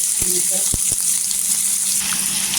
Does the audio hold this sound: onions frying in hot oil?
yes